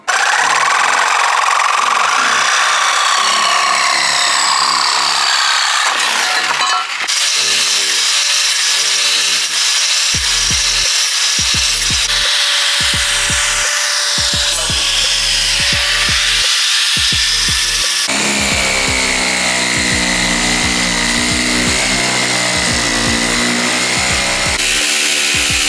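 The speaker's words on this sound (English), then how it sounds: "cutting out the bumper so it can fit the exhaust tip." A power saw cuts through the rear bumper of a Lexus IS350 to make room for an exhaust tip. The tool whines loudly and steadily with a gritty cutting rasp, and its pitch shifts as it bites into the bumper over a long stretch.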